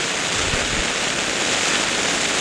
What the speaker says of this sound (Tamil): இந்த கடலை வந்து உடைச்சி கொண்டு தண்ணி போகுது கடலுக்கு அவ்வளோத்துக்கு மழை பெய்யுது